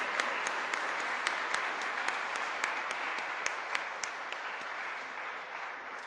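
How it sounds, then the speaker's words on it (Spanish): An audience at a church gathering gives sustained applause, a dense, even wash of many hands clapping that continues steadily at moderate distance. "Le damos otro fuerte aplauso a Carlitos."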